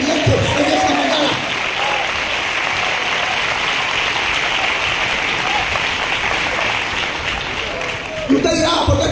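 A church congregation claps together during a morning service in a sustained, dense wash of applause, with brief vocal sounds near the start and end.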